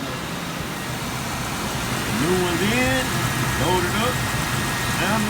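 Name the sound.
2005 Lincoln Aviator 4.6L engine idling with new spark plugs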